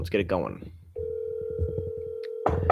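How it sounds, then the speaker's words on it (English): A telephone call is placed during a commercial real estate cold-calling session: a steady ringback tone runs alone for about a second and a half after brief talk, then speech returns over it at the end. "Pick up the phone, my friend."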